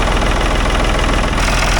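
A Ford tractor's three-cylinder diesel engine idles smoothly and loudly at close range, a dense, even rumble with a steady pulsing beat and no voices.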